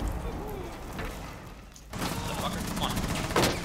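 Gunfire in the Rainbow Six Siege video game: a mushy, continuous spray of shots that swells louder after a short lull near the middle, with faint speech-like sounds mixed in.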